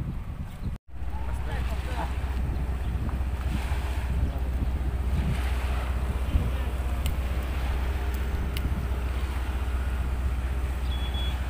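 Sea waves wash against the shore in Bali, Taiwan, beside a seaside building, a steady roar of surf and wind rumble with wind buffeting the microphone and a brief dropout near the start.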